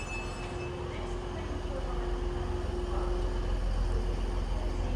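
A Class 390 electric train, unit 390 115, pulls into a platform at Stockport station with a steady low hum and a sustained tonal whine that swells slightly toward the end.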